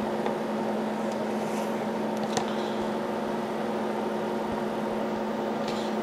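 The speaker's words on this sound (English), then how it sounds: "I'm going to just face it a little. So got the piece in the lathe here." Metal lathe facing a workpiece with the tool pulled from the inside out, a steady motor hum with a constant tonal drone and faint cutting scrapes, no talking.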